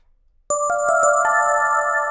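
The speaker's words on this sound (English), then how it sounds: "So that gives me a pretty spacey reverb" Bright FM synth bell tones strike in a quick cluster and ring out, sustaining and blending into a wide, spacey reverb tail, made with the EFM1 synth.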